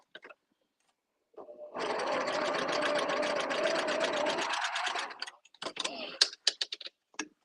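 A sewing machine stitches a fabric thread catcher in a steady, fast mechanical whir of about three seconds, close and clear. It slows and stops, followed by a few sparse clicks and handling taps.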